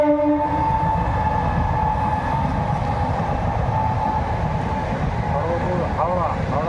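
Howrah–Kharagpur local train rumbling past close by on a foggy village morning, a continuous heavy roar of wheels and carriages with a horn tone at the start and a person speaking near the end.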